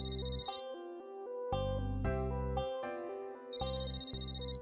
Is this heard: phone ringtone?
yes